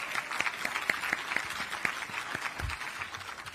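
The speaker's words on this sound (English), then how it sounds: "just another round of applause for the panel" Applause for a panel at an anti-monopoly summit, steady clapping from a moderate-sized audience with a few sharper nearby claps standing out, heard at moderate level throughout.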